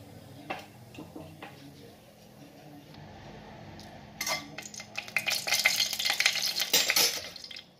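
A single bay leaf drops into hot white cooking oil for a bottle gourd dish, starting with quiet ticks and stirring clinks, then breaking into a brighter, crackling sizzle that builds toward the end.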